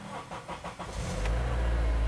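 2007 Honda Odyssey Absolute starting up, a few quick cranking pulses that catch into a steady low engine idle, heard close up with no speech.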